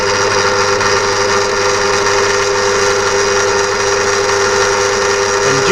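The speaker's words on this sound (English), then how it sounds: "And gently peck drill the way through to the hilt of the" A drill runs continuously while peck-drilling through a part for a striking and chiming clock, giving a steady, close whine with a constant mechanical hum and no pauses.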